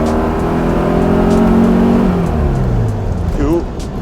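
Custom turbocharged 1967 Volkswagen Beetle rag top, chopped and lowered, revving up as it accelerates, a steady mid-pitched engine note rising in pitch under ongoing conversation.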